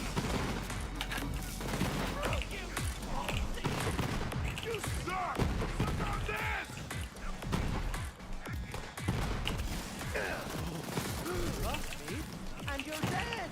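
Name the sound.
multiple projectile rocket launchers firing in video game Borderlands 3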